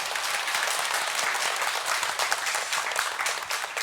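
A church congregation at a Sunday morning worship service gives applause of glory to God after a hymn; close, bright, energetic clapping from many hands, steady and loud throughout.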